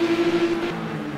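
BMW touring cars race at the Lady Wigram Trophy, 1985 New Zealand Touring Car Championship, with a steady engine drone and a faint whine carrying over a continuous rushing roar. No voices are heard.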